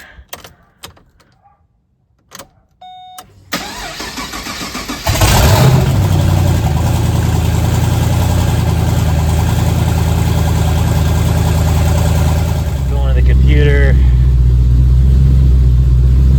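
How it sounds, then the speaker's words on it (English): A few clicks, then a turbocharged Pontiac G8's engine cranks and catches, settling into a loud steady idle that rises briefly near the end. "then we'll go ahead and start the car"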